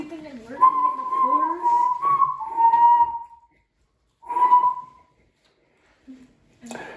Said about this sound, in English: he decided to whistle a little tune.